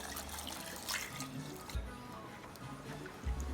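Water pours and trickles into blended ginger, a faint splashing and gurgling with a few soft knocks, quiet throughout.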